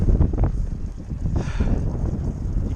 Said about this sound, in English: It's blowing pretty hard today, possibly maybe 50 mile per hour winds or more